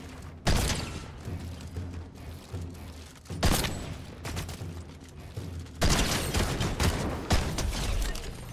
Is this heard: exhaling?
no